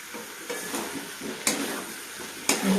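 Fried potatoes and jackfruit being stirred into a spice masala in a pan, with a steady soft sizzle and sharp scraping clinks of the spoon against the pan every second or so.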